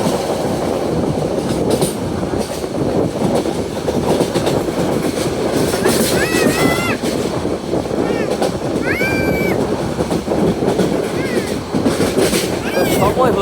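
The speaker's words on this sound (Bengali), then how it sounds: "আমরা এখন ননস্টপ ট্রেন দিয়ে দুরন্ত গতিতে এগিয়ে যাচ্ছি ঢাকার উদ্দেশ্যে" The nonstop Cox's Bazar Express to Dhaka rushes along at speed, loud rolling rumble and rhythmic wheel clatter with bursts of high metallic squeals from the wheels.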